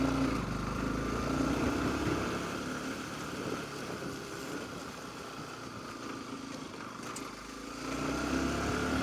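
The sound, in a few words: vehicle engine straining while climbing a hill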